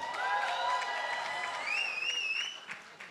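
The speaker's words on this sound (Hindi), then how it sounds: "एक बार जोरदार ताली होनी चाहिए" Crowd applause at the Pathaan film press meet, with clapping mixed with shrill whistles and cheers, steady at first and then thinning out toward the end.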